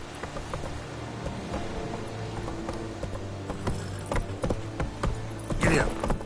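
Horse hooves clip-clop steadily in a video game, with a regular rhythm of close, moderately loud steps over a continuous background.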